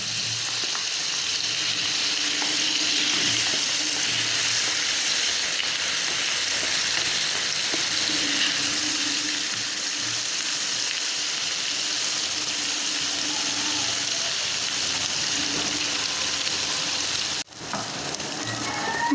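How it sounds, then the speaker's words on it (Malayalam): Sausages fry in sunflower oil in a pan for chilli sausage, giving a loud, continuous close-up sizzle and crackle. A brief knock is heard near the end. "ഇട്ട് വെച്ച ഈ സോസേജ് പാനിലേക്ക് ഇട്ട് കൊടുക്കാം"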